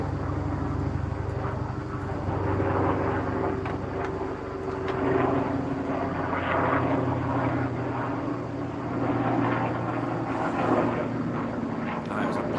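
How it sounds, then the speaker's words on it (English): An airplane passes overhead outdoors, its steady broadband engine drone holding at an even level throughout, with a voice talking over it. "There's a plane going by."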